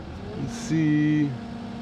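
A 1949 Willys engine runs off-road during a recovery near a tree, a steady mid-level drone that briefly rises and holds a tone before easing back, with no talk over it.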